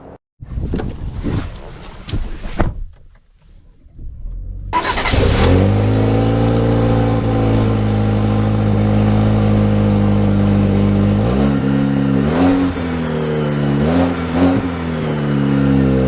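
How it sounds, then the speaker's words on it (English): A 2023 Chevy Colorado pickup truck engine starts up and revs hard, a loud, steady roar that climbs in pitch through repeated gear shifts, heard close from inside the cab. "So we are setting off in the Colorado first, and man, this thing's got some torque."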